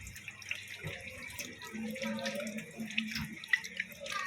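Tap water runs steadily from a faucet as soapy hands are rinsed at a sink, a soft continuous splashing with small drips, under faint talk.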